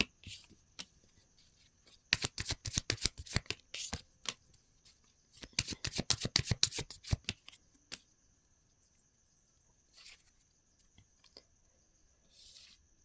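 Tarot cards are riffled and shuffled up close in two quick, crisp bursts of rapid flutters, with scattered lighter card taps and handling before, between and after, and a faint steady tone in the background.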